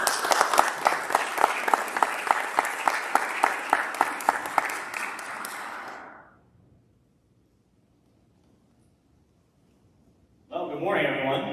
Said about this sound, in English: So I would ask you all to give Kevin a round of applause